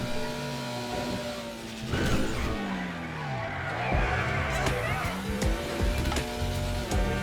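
A Pfister Comet Safari rally car's engine revs and drops in GTA Online, its pitch repeatedly climbing and falling through gear changes, with crashes and scrapes, under intermittent talk.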